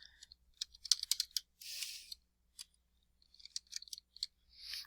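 Typing on a computer keyboard at a desk, heard as irregular bursts of quick, light clicks close by, with short pauses between runs of keystrokes and no talking.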